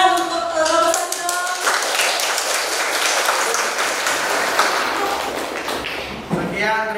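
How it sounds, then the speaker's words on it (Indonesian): A classroom of students claps for a discussion group, a short burst of applause that fades out, with voices heard at the start and end. "beri tepuk tangan untuk kelompok 1"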